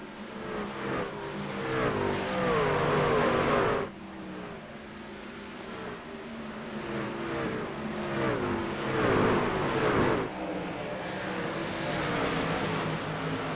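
Race trucks roar around Bristol in the iRacing sim, several engines droning and sweeping past in overlapping waves with shifting pitch, loud and continuous without a break.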